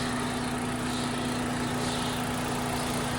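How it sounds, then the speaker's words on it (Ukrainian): A 2010 Opel Zafira Cosmo's 1.8 petrol engine, rated 140 hp, idles with a steady, even hum and a constant low drone, close and unbroken throughout with no voices. "Двигунчик працює дуже класно."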